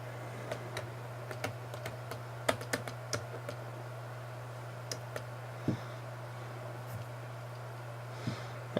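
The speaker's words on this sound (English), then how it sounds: "Drawing an example there on the screen." A stylus tapping and dragging across a resistive touch screen on a Windows tablet with an active digitizer, giving scattered light clicks and taps at irregular intervals over a steady background hum.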